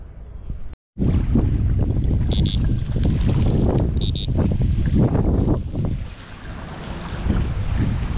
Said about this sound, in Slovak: vietor je brutálny, fúka pod breh